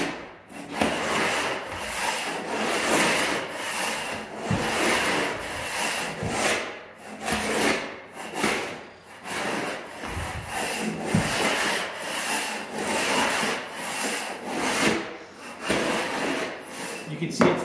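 A Harbor Freight scraper pushed by hand scrapes old glue off a floor in repeated rough, rasping strokes, loud and close with short pauses between passes.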